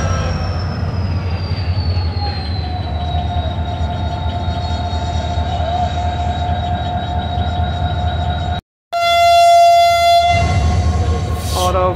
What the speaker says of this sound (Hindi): 42 डाउन कराकरम एक्सप्रेस का डिपार्चर विसल हो चुका है